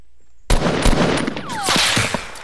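Sniper rifle fire in the Fortnite battle royale game opens with a sudden loud crack, then more sharp gunshots and rattling bursts follow close together in a dense, noisy stretch.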